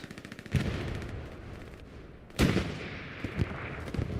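Gunfire and explosions from the World War II shooter game Hell Let Loose during a night battle at Kharkov: repeated booming shots and heavy blasts with crackling echoes, two loud bursts standing out over a dense, rumbling battle bed.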